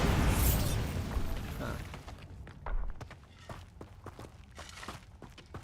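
Confringo and Bombarda spell explosions in a Harry Potter video game: a loud burst opens and fades into rumbling, followed by a second thud and a run of smaller pops and footstep-like knocks, quieter toward the end.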